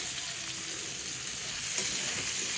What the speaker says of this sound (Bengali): এখানে যে আলুর তরকারি রান্না করতেছি